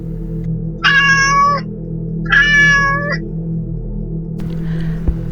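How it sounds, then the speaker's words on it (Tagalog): A passing cat meows twice, close and clear, each call lasting under a second, with a quiet pause between and a faint low hum underneath. "Isang pusa ang dumaan sa harapan ni Julio"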